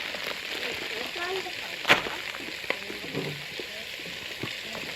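Spinach sizzling in a pan over a campfire while being stirred, with a steady frying hiss, an occasional sharp clink of the utensil, and faint voices underneath.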